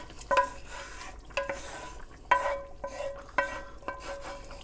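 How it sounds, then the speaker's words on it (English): A spoon stirs vegetables and tomato mixture into a simmering Cajun chicken sauce picante, four or five ringing clinks against the pot over a soft wet churning, close and fairly quiet, with no speech. "We're going to stir it in, get it nice and combined."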